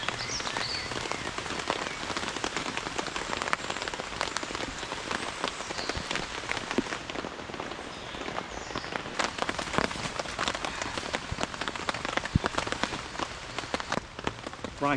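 Steady rain during a storm, drumming on a tent and shelter outdoors. It patters densely and continuously with sharper drops throughout, with no voices.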